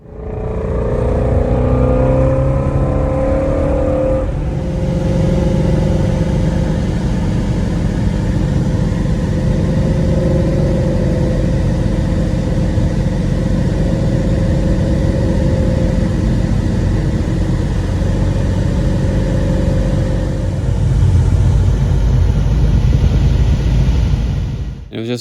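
Shelby GT350 with MBRP active exhaust and deleted resonator cruising on the road, a loud continuous low exhaust drone and tire rumble from inside the car, steady with a swell near the end.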